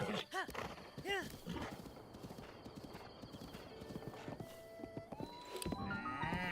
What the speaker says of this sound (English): Why can't I control the horse?